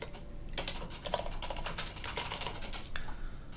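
Rapid typing on a computer keyboard during a Linux installer setup, a dense, continuous flurry of soft keystrokes, close but fairly quiet, with no voices.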